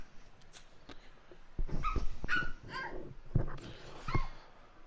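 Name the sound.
young girl imitating a dog barking and whimpering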